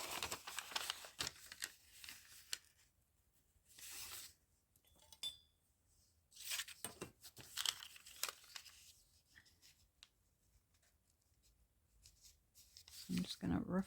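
A scrap of packing paper is roughly folded and creased by hand, giving intermittent crinkling, rustling and slight tearing sounds close up. A voice talks quietly at times between the paper noises.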